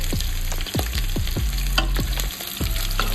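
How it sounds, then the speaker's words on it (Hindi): Onions frying in a pan over a medium flame, a steady close sizzle with repeated stirring scrapes and clinks and no talking. "अब ऑनियंस को हम अच्छे से पकने देंगे"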